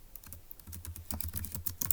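Quick bursts of computer keyboard typing, close and crisp, with uneven key clicks tapping in a fast run for about two seconds, no talking.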